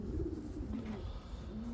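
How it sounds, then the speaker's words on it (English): A racing pigeon cooing, a low soft repeated warbling coo, fairly quiet and close, heard on its own without speech. "Sweet 606, who is cooing her little heart out right now"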